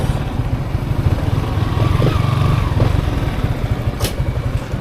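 Motorcycles at a Yamaha dealership branch produce a steady, loud mid-pitched engine drone with rhythmic idling pulses, close by, and a sharp clank partway through.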